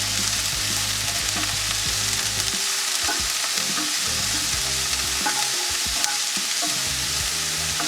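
Food for In-N-Out style cheeseburgers fries in a pan with a steady close sizzle, broken by scraping stirs and low utensil knocks, and no talk.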